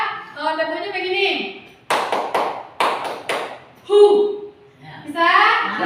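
A short burst of rhythmic hand clapping in a group clap-along drill, several sharp claps in a quick patterned sequence, with talk before and after.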